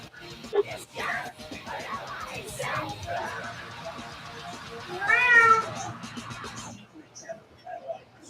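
A house cat meows loudly and close, a drawn-out wavering cry rising over cluttered background noise and scattered talk, then trailing into quieter sounds.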